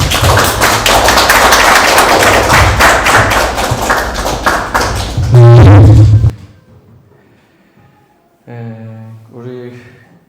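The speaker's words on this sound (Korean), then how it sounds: "우리 나오실 때 박수 한번 할까요?" Church congregation clapping together in a loud, dense burst of rapid hand claps that runs for several seconds before stopping abruptly, after which a voice speaks briefly.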